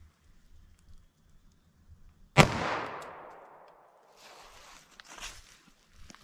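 A single sharp shot from a .22 LR pistol firing CCI Uppercut hollow-point rounds into ballistic gel, loud and close, with a long fading tail and a few soft handling noises afterward.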